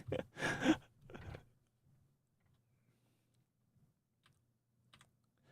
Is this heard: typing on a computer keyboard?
yes